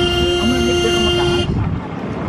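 Vehicle horn blaring in traffic in India, a loud sustained honk lasting about a second and a half over road noise, then fading into traffic rumble.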